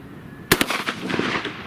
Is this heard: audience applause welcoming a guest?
no